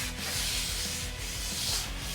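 Hand sanding a Simmons electronic drum rim with a sanding block, a steady rhythmic rasping scrub of back-and-forth strokes, close and continuous with no talking.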